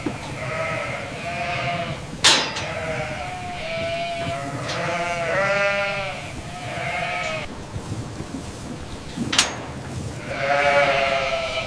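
Goats on a commercial goat farm bleat repeatedly in several wavering calls of varying pitch, fairly close and clear over low barn background noise, with no talking.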